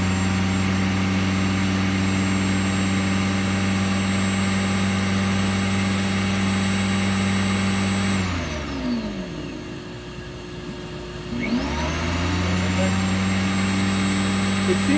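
A Rainbow SRX vacuum runs loud and steady with its nozzle on, then its pitch sags and its roar drops for a few seconds before climbing back to full speed.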